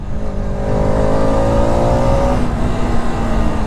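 A Bajaj Pulsar RS 200 motorcycle pulls hard in third gear, its engine droning loud and close with a rising pitch, steady wind and road roar underneath, no talking.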